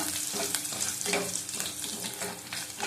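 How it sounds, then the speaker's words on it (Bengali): Fenugreek seeds with chopped garlic crackle and sizzle in hot oil, a close, dense frying hiss with small pops and stirring throughout. "মেথি দানা দিয়ে দিলাম বেশি ভাজবো না"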